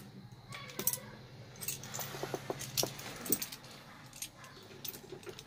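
Light metallic clinks and rattles of a Daihatsu Gran Max van's metal keys jangling, a few scattered bursts close by over a quiet background.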